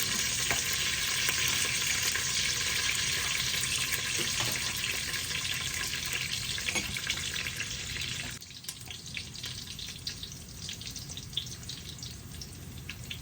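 Garlic frying in hot oil in a pan for a Tamil tomato rice dish, a dense steady sizzle that softens and thins partway through, with no talking.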